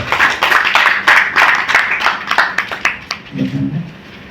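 Audience applause at an event naming a new Nizam of the Asif Jah dynasty, a dense burst of many hands clapping that thins out and fades over a few seconds, with a low voice murmuring near the end.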